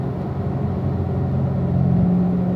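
A car accelerates down the straight of a race track, its engine a steady loud drone with pitch climbing gradually over constant road and wind rumble, uninterrupted and close-sounding.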